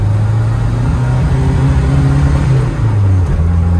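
A Renault Super 5 GT Turbo idling and revving close by, with a loud low engine drone that rises and falls slightly in pitch; the turbo is faulty and fails to build boost.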